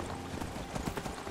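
Horse hooves clip-clop in the Skyrim video game, a quick run of close, clear hoof strikes on a hard surface. The steps come at a steady walking rhythm, with no speech over them.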